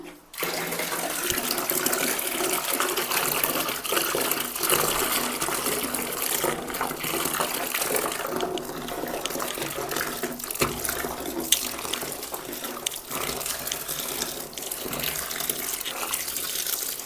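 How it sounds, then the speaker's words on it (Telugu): Tap water running into a tub or bucket while hot and cold water are mixed for soaking white school uniforms, a close, steady gushing splash lasting throughout with small fluctuations. "నేను ఇప్పుడు వేడి నీళ్ళు చన్నీళ్ళు మిక్స్ చేసి అయితే వైట్ యూనిఫామ్స్ అయితే నానబెడుతున్నాను"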